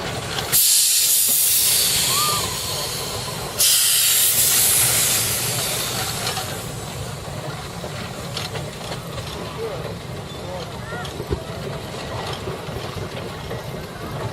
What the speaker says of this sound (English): We've got a road locomotive coming along, a Burrell road locomotive this time, a 6 nominal horsepower.